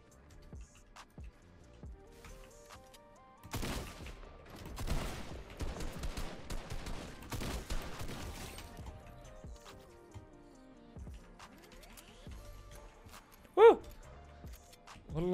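Sniper rifle shots in the video game Fortnite, a cluster of sharp cracking shots in the middle of the stretch between stretches of quieter game sound, with a voice talking over it.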